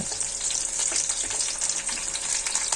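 Three green chillies fry in hot oil, a steady close sizzle with a bright crackling hiss throughout and no talk.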